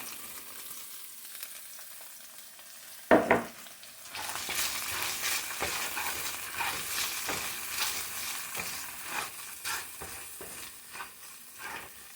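Green peas and carrots hit a hot pan for shrimp fried rice, setting off a sudden loud sizzle after a quieter start, then steady close-up frying and stirring scrapes throughout.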